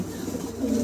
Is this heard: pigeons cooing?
yes